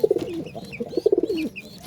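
Pigeons in their loft give a clear, close bout of repeated throaty coos, with a second phrase following after a short pause.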